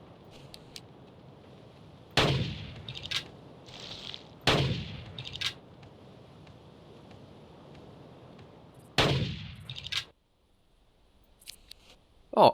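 Three sharp, loud rifle shots ring out one at a time during a hunt in a video game, each with a rolling echo. The gaps between them are uneven, with quiet ambient noise in between.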